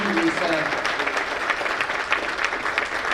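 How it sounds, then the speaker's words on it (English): A meeting audience applauds a departing guest speaker, giving a steady, dense burst of clapping from many hands that fills the room and holds evenly from start to finish. "let's give Lisa a little round of applause"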